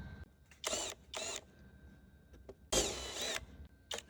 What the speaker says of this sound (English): Next, we're going to use a countersinking tool.